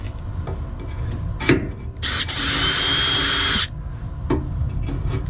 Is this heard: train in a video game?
no